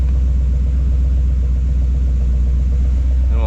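A 1952 Oldsmobile engine idles steadily with its cooling fan off, a low, even rumble that runs close and unbroken with no voices.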